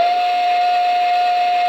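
A Lionel toy steam locomotive whistle from the Cumberland Valley Wayfreight set sounds one steady, shrill tone with a breathy hiss underneath, held evenly throughout.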